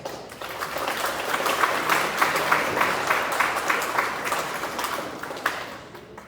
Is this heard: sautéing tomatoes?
no